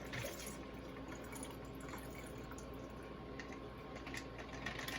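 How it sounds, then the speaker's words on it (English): A cocktail, turned purple in a shaker and poured over ice, gives a steady soft liquid trickle with faint drips and clinks, quiet and continuous for about five seconds. "Pour it over ice."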